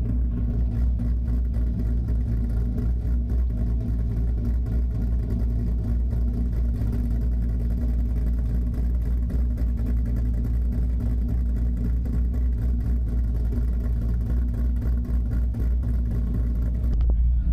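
A car engine idles and drones steadily through a homemade, non-straight-piped exhaust system, with a deep, muffled exhaust rumble, constant throughout with no voices.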